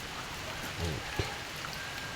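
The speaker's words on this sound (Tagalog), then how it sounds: "Grabe ang ulan, no? Isang linggo nang umuulan." Heavy rain falls steadily in a continuous dense patter with a faint thud or two partway through, and no one talks.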